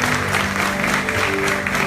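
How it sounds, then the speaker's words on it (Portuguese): Church congregation applauding during a sermon, a continuous wash of clapping hands mixed with crowd voices and background music tones, steady and close. "Você pode aplaudir se quiser, fica à vontade."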